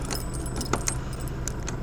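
Metal keys jangle and clink in short bursts while a padlock is being opened on a storage unit holding a motorcycle, close and clear, with faint vehicle noise behind.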